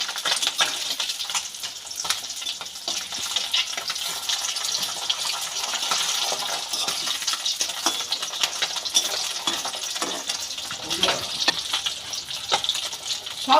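Bata fish frying in hot oil while being turned, a dense close sizzle with irregular spatters, clicks and scraping taps of the turning utensil throughout, no talk.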